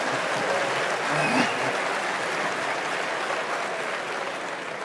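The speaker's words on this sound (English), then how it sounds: "I hope you're applauding over coming to Berkshire" Applause from the audience at a 1994 Berkshire Hathaway annual shareholder meeting, a steady even wash of many hands clapping that fades slightly toward the end.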